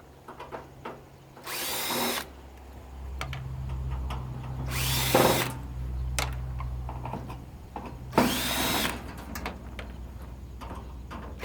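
A power drill spins out screws during the teardown of an air purifier with a heavy steel housing, three loud whirring bursts close by, separated by rattling handling noise and a low steady hum.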